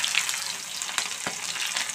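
Oil heats in a pan for a pigeon meat recipe, crackling and sizzling steadily up close, with a few sharp pops and no voices.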